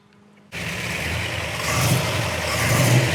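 A 1960 Ford Starliner engine kicks in after a short near-silence, then holds a steady rumble and revs up louder, close by.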